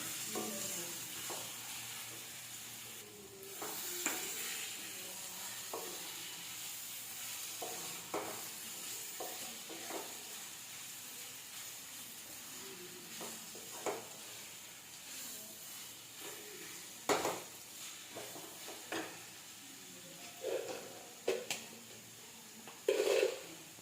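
Mango thokku is stirred in a pan over medium heat, giving a steady scraping sizzle with scattered louder clinks of the utensil against the pan toward the end.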